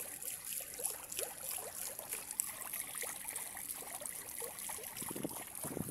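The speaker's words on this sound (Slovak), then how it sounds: "Veď ak nejde z toho voda, predtým silno išla. Teraz iba tak kvapka." A weakened fountain trickles and drips faintly, with soft irregular splashes over a thin background hiss.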